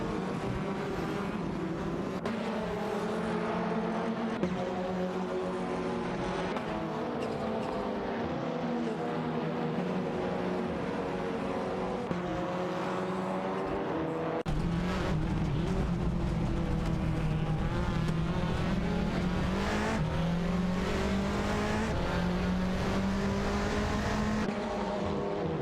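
Race car engines from a racing video game, an Audi TT Cup and an Audi RS3 TCR among the field, drone steadily with rising and falling pitch through gear changes, continuous and fairly loud.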